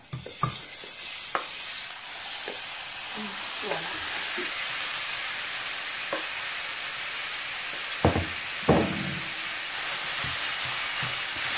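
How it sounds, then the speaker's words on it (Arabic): Spiced kefta, minced meat, fries in a hot pan with a steady bright sizzle throughout, broken by occasional scraping and stirring knocks from a utensil and a few louder clanks. "هنا من بعد كتسخن لينا المقله ديالنا، تنديرو داك الكفته اللي درنا لها توابل"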